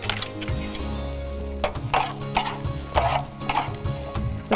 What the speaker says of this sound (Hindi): हम इसमें सफ़ेद वाला ज़ीरा ऐड कर रहे हैं